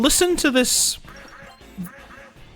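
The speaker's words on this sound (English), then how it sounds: "Why is it quacking like a duck?" A bird demon in the Shin Megami Tensei: Persona game giving a short series of duck-like quacks, loud and close, followed by a person speaking.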